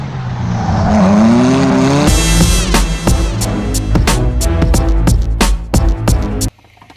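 A stock Cadillac ATS 2.0T turbo four with an aftermarket muffler accelerates hard on a baseline run, engine rising and pulling loudly close by, then broken by sharp repeated bangs or clatter before cutting off abruptly.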